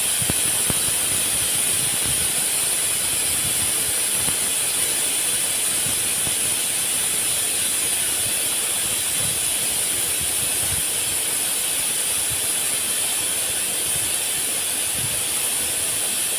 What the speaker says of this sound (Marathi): 4थी शिटी चालू आहे